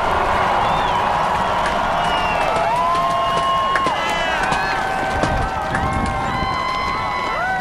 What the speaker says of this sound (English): The immense crowd salutes and applauds the 44th President, Barack Obama, after that inaugural address on the west front of the Capitol